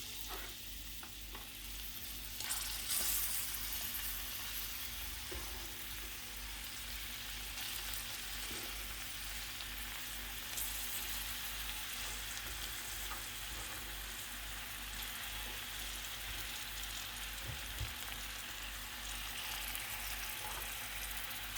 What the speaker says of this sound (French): Du coup, je vais mettre les oignons.